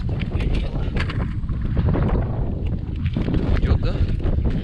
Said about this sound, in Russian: Поднялся ветерок.